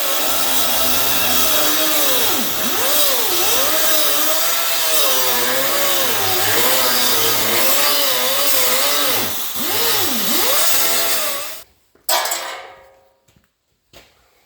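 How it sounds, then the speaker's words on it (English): An air grinder with a cut-off wheel cuts through metal on an old car door, a loud close high whine rising and dipping as the load changes, then stopping abruptly near the end. "All I used was the air grinder with the cutting wheel."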